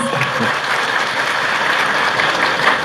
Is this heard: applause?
yes